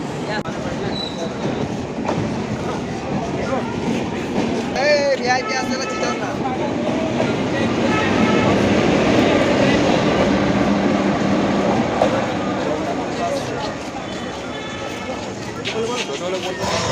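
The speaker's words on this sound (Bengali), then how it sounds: "বিশ্বভারতী ফার্স্ট প্যাসেঞ্জার এই যে ছেড়ে দিল।" The Biswa Bharati Fast Passenger train pulls out of Bolpur Shantiniketan station with a steady, loud rumble and rolling wheel clatter that swells near the middle, while voices murmur on the platform.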